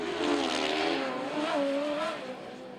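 Grasstrack racing motorcycles at a meeting in Berkshire, engines blaring loud and close as a rider opens the throttle out of a turn, the pitch climbing and wavering before fading slightly.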